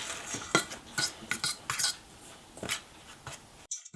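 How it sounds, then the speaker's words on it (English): A fork stirs almond flour and other dry ingredients in a bowl, giving a series of irregular scraping clinks and taps against the bowl, close and fairly quiet, with brief pauses between strokes. "I'm simply going to take a fork and sift around the dry ingredients."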